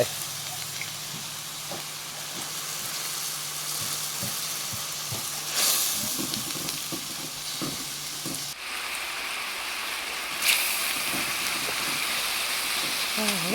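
Duck kidneys stir-fried with holy basil in a hot wok, a steady loud sizzle with scraping stirs and occasional clanks of the spatula, continuous throughout.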